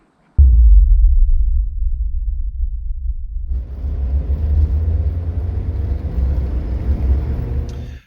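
A turbocharged Peugeot 205 diesel, tuned to 1 bar of boost with richer fuelling, rumbles into a low, throbbing idle, then rises to a fuller, steadier drone with a faint whine near the end.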